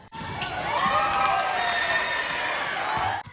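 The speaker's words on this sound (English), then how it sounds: "the Franklin cheer team and whole gym cheered them on" Crowd in a school gym cheering during a girls' senior night celebration, a sustained roar of voices and shouts with scattered bounces and squeaks underneath.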